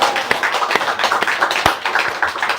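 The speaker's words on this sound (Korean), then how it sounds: "박수 좀 쳐줍시다." Congregation clapping during a Sunday worship service at a Baptist church, a short burst of many hands applauding together, close and fairly loud, with sharp individual claps standing out from the dense patter.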